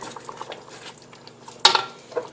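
A spoon stirs a pot of homemade tomato sauce with two bay leaves, giving soft bubbling and faint scraping, then one sharp clank of the utensil against the pot, followed by a quieter clink.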